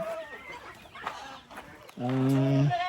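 A native hen clucks in short bursts early on, then a louder, drawn-out squawking call rises near the end, close by with farmyard background.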